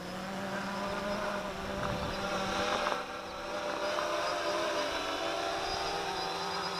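A WLToys V303 Seeker GPS drone descends to land, its steady high-pitched rotor whine and buzzing motors holding close and continuous, with a brief dip in the middle, no voices.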